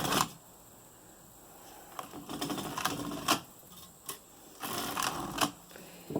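A Suitcase Superba knitting machine knits several rows, the carriage making clattering mechanical passes with sharp clicks and rattling bursts, close and alone.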